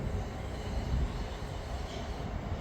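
Train approaching and passing St Denys station, a steady low rumbling roar of wheels and carriages at close range throughout, with no voices.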